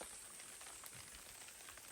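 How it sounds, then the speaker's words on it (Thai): Rain falls steadily on a forest hide near the border, a soft, even patter and hiss with no voices. "มาเจอฝนตอนนี้ ตอนอยู่ชายแดนนะทุกคนนะ"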